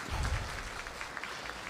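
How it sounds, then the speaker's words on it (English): Applause from a cybersecurity conference audience, a steady wash of many hands clapping at moderate loudness for almost two seconds, with no one speaking. "So can you give a great round of applause?"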